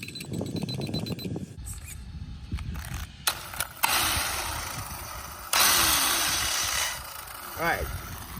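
Arrma Typhon RC car's electric motors on a 12S setup whining up in bursts, with a high electric hum rising and cutting out between clicks and handling noise, while someone talks nearby.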